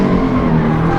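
A car engine revs loudly and steadily close by to about 4,000 RPM during a launch test, holding a high, strained drone for about a second.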